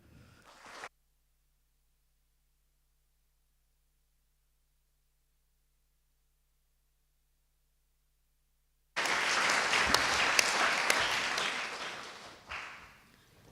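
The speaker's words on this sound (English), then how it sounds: "this round of applause is for you" Round of applause at a closing ceremony, a large audience clapping loudly in a sustained wash that swells, holds and then tapers off, following a long stretch of silence.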